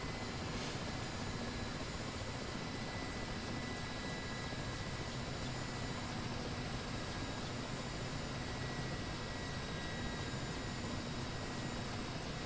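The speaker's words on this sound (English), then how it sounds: "Now we can spool down the engines." The engines of a Mi-8 helicopter in the DCS flight simulator wind down as a dense, loud, steady turbine roar with a high whine that holds unchanged throughout.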